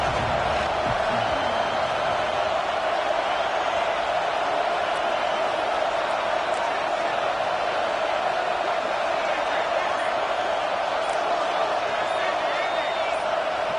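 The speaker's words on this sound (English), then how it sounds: "with this place rocking, the crowd forces a false start" A college football stadium crowd roars loudly and continuously, a dense, unbroken wall of noise that stays constant from start to finish without a break.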